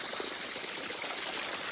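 Water leaking from a broken water system on Madeira, heard as a steady, continuous trickling and splashing flow that stays even and moderately close throughout, with no voices over it.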